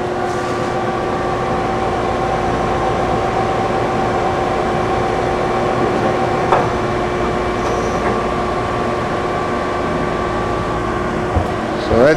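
A 1980 Okuma & Howa Millac 5VA three-axis CNC vertical machining center with Fanuc 6M control and CAT-50 spindle runs steadily, its spindle whirring with tonal hums and a couple of faint clunks from gear changes, close and continuous.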